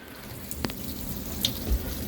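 Water from a hose pipe pours steadily into a plastic wheelie bin, a soft continuous rushing and splashing with a few faint drips and knocks, close by and without talk.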